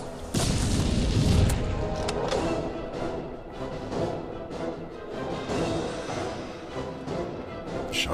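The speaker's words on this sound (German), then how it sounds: "Oh nein! Granate." A grenade blast in Rambo The Video Game opens with a loud, heavy boom that rolls into a sustained rumble. Dense crashing and mechanical battle noise keeps going steadily after it.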